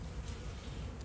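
Faint, steady buzzing of honeybees during a hive inspection, a low continuous drone with no voices.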